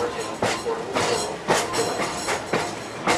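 A passenger train on the Pittsfield & North Adams rail line, riding from Adams to North Adams, with steady clickety-clack of wheels over rail joints in an even rhythm, heard from onboard over continuous rumble.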